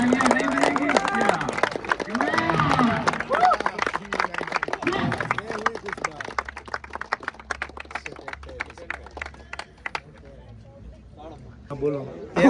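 A crowd clapping in applause at a cricket match celebration, loud rapid clapping mixed with excited voices and chatter that thins out into scattered claps toward the end.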